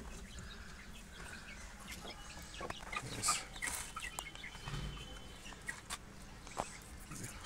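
Aseel chickens and roosters in a home breeding setup give scattered, faint clucks and short calls against a quiet background, with a few sharper bursts partway through.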